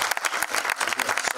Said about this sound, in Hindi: इनके लिए एक ताली बजाओ दोस्तों.